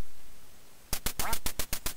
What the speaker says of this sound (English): These ducks are getting tougher.